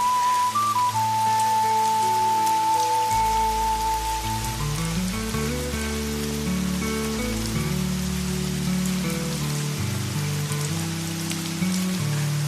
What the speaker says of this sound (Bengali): এই যে বৃষ্টি শুরু হয়ে গেল